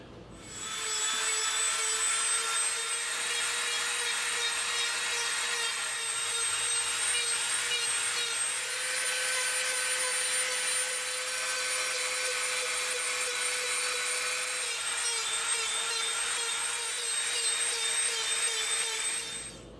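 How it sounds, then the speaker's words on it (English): A Dremel rotary tool grinds EVA foam in a continuous high-pitched whine, its pitch dipping slightly as the bit presses into the material, running close and loud for nearly twenty seconds. "let's get to dremeling"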